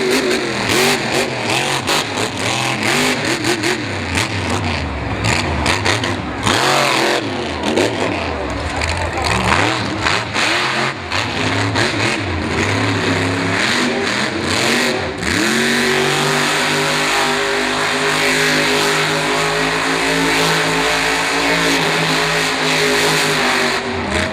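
Monster truck engine roaring and revving hard during a freestyle run at a 2018 arena show in Miami, Oklahoma, loud and continuous with surging pitch, shifting to a sustained high roar near the end, with an announcer talking over it.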